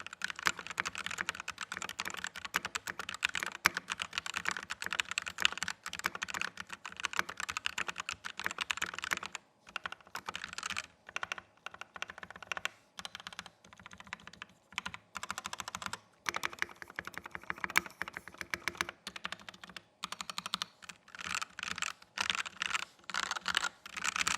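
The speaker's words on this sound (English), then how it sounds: "The switches I did choose to use on my board are the Gateron Oil Kings, so you guys know for the sound test" Typing on an XTRFY K5 compact keyboard with Gateron Oil King switches in a double-foamed case, a fast continuous run of close keystrokes with brief pauses, no talk.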